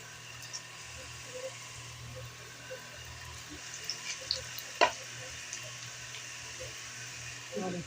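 Onion samosas frying in hot oil in a home kitchen, a faint steady sizzle running throughout with a few soft pops and clinks, one sharper knock near the middle.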